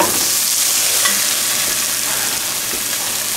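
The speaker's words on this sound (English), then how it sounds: "We've got a little stir around" A spoon stirs white chicken chilli in a pot, giving a steady soft scraping and bubbling sizzle that runs alone and close throughout.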